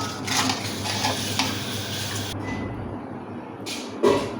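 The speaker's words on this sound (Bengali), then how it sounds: "মাংসটা গরম তো এই জন্য আমি খুঁটি দিয়ে মিশিয়ে দিচ্ছি।" A spatula stirs hot chicken pieces seasoned with lemon juice in a pan, giving close scraping and light sizzling for a couple of seconds, then quiet, then a sharp clink of utensil against cookware.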